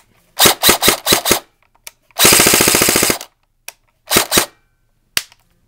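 Short bursts of rapid fire from a G&G F2000 airsoft gun with an upgraded G&G blue motor, several quick volleys then one longer fast-cycling burst, loud and close with brief pauses between.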